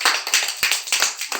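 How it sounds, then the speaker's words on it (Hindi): A group of children and adults clap hands together in a short burst, a quick run of sharp, close claps in a loose, uneven rhythm, without speech. "ताली बजाओ सब लोग"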